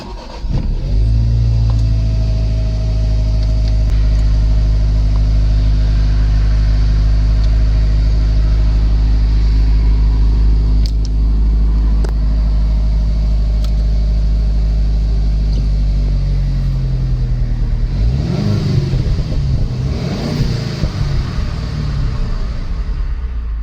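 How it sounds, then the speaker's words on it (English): A Honda Civic Type-R FL5 engine runs steadily and loudly close by, a deep sustained drone with a change in pitch near the end as it revs, no talking over it. "in today's video I'll be trying out this Honda Civic Type-R FL5"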